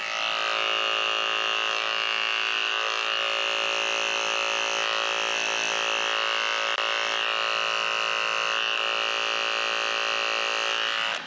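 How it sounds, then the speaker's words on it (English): Dog grooming clippers fitted with a 30 blade, with a blade drive needing replacement, run on a senior Westie's paw pads, giving a loud, steady high-pitched electric buzz that holds without pause and stops at the end. "My clippers are really loud because my blade drive needs to be replaced"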